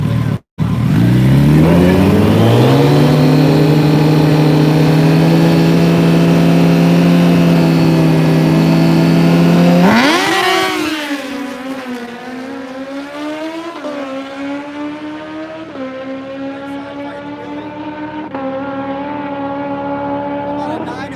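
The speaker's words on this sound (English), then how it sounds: "throwing this clutch on a sticky racetrack with the RPMs high, trying not to flip over backwards" Kawasaki ZX14 drag racing motorcycles hold a loud, steady high-RPM scream on the start line, then launch into a rising, shifting howl as they pull away down a sticky drag strip, with a commentator talking over it.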